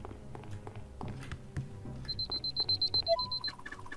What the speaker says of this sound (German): Oh nein, der Wecker.